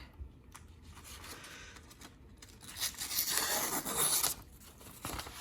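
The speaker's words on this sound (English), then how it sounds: "Right here I have some newspaper, which is difficult to cut if your knife is not sharp." Knife blade slicing through sheets of newspaper, a dry papery rasp that swells into a louder tearing scrape through the middle, with quieter scratches before and after.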